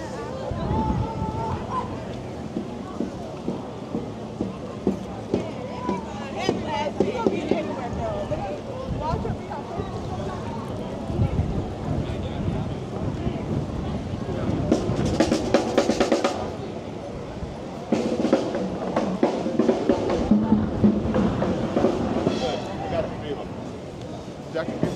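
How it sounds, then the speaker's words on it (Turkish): Wind blows steadily across the microphone in Salem, an ocean-side city, a continuous rushing roar with people talking throughout. "Burası okyanus kenarı bir şehir olduğu için böyle rüzgar olayı da çok fazla."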